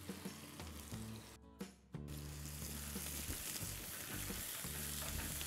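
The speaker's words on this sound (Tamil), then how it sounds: "அந்த ஸ்லைஸ் பண்ணி வச்சுருக்கிற வெங்காயத்தை இதில் போடுங்க" Sliced onions dropped into hot oil with cardamom and cloves for salna give a quiet, steady frying sizzle after a brief pause, with no talk.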